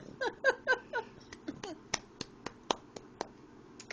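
A baby in a high chair at mealtime, eating rice and broccoli, claps her hands in a run of about eight sharp, close slaps. Babbling and giggly baby vocal sounds come just before the claps start.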